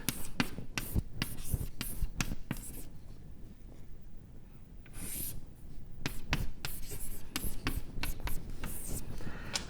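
A pen or marker writes an equation by hand with quick, close scratching strokes in bursts and short pauses, steady and fairly loud for several seconds.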